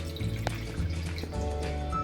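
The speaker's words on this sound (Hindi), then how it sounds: "इसमें मैं थोड़ा सा पानी डालूंगी" A little water is poured into a pot of mutton ojri being cooked, producing brief, close splashing and dripping sounds in a couple of short bursts, with no speech.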